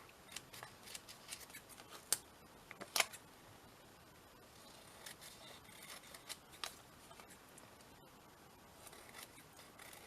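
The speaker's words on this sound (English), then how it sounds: "Let's cut the edges, tidy it up a little bit." Quiet, close snipping of scissors cutting paper washi tape, a few sharp cuts scattered among soft rustling, with no talking.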